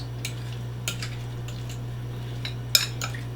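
Sparse, sharp clinks of a utensil against a bowl as cauliflower cake batter is mixed, a handful of separate taps over a steady low electrical hum, nearby and without speech.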